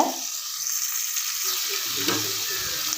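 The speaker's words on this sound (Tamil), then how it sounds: "நம்ம சாம்பார் செய்யும்போது இந்த மாதிரி தாளித்து செஞ்சிங்கன்னா டேஸ்ட்டு வந்து வேறு லெவலில் இருக்குங்க நல்லா ஃப்ரை ஆகணுங்க" Curry leaves crackle in hot oil as a tempering for mango sambar, a close, continuous sizzle with a few stirring scrapes near the end, no one talking.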